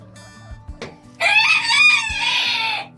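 Bantam chickens clucking softly in a farmyard, followed by a loud, close rooster crow that rises and holds for nearly two seconds over the background clucks.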